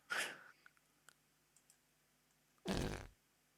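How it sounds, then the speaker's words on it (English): Two short, loud fart sound effects for a whoopee cushion game, one at the very start and one near the end, with faint clicks between them. "You can't beat a fart noise, can you?"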